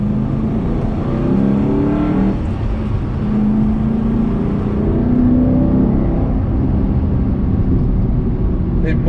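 A 1981 Porsche 928 engine pulls hard from inside the car, its rumbling tone rising in pitch through the revs and dropping at each gearshift, loud and continuous.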